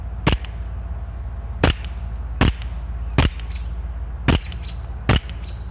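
An airsoft rifle fires six sharp, evenly spaced shots about a second apart against a shield, each a crisp snap over a low steady outdoor hum, with no talking.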